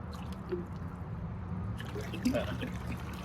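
Water trickles and splashes softly into a light-up pool fountain, a steady close-up flow with small dripping accents, and a person talks over it.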